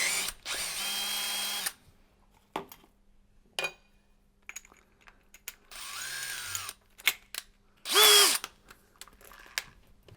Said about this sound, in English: We're now going to change to our socket and remember to go onto drill mode